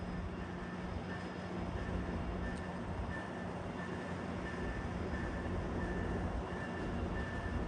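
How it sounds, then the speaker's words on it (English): Via Rail train 54 to Ottawa, a Siemens Charger set, arriving at Oshawa station: a steady rumble of wheels and engine at moderate distance, continuous and even throughout, no talk. "arriving Oshawa's train 54 to Ottawa with a Siemens charger set"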